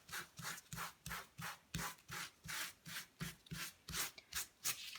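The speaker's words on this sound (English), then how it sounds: "Then get a soft cloth and just rub it in." A soft cloth rubbing coloured texture paste into a surface, brisk rhythmic strokes about two per second, close and quiet, with no voices.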